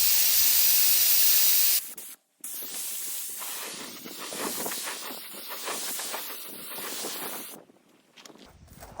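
Spray gun laying down a coat of SPI epoxy primer, cut slightly thinner, as a steady broad hiss in long passes with a brief gap between strokes, close and fairly loud with no talking.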